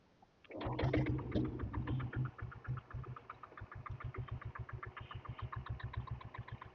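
An old diesel Bullet motorcycle kick-starts and settles into a loud, close, steady idle with the heavy, evenly spaced thumping typical of a single-cylinder diesel.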